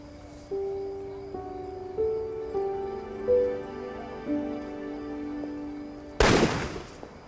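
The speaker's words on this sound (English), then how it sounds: "Was that a gunshot?" A single sharp gunshot cracks near the end, loud and close, after several seconds of soft sustained musical tones in a period detective drama.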